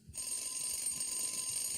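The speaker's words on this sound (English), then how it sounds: "we've created a fail-safe wake-up system with 3 stages of alarm" A multi-stage wake-up alarm system in a sitcom bedroom starts abruptly and rings continuously, a loud, steady, shrill alarm-clock tone with no pause.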